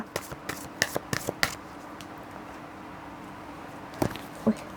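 Tarot cards are shuffled by hand in a quick series of crisp riffles and slaps, close and clear, then a pause before two more card taps.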